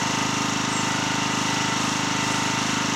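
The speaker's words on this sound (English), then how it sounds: "that noise you can hear at the minute is from the stonemason doing some headstones" Continuous loud mechanical rattling from a stonemason's power tool working on headstones at a churchyard, steady and unbroken throughout, fairly close, no voices.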